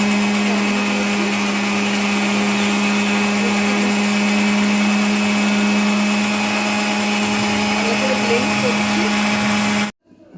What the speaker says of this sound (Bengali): ব্লেন্ডারের মধ্যে এতটা পরিমাণ দিয়েছি বিউলির ডাল এবার এটাকে আমি ভালো করে ঢাকনা দিয়ে বন্ধ করে দিলাম